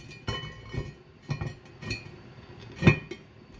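A metal lid set onto a cooking pot of osso buco stew, a few soft clinks and taps followed by one louder sharp clank, close and isolated in a quiet kitchen.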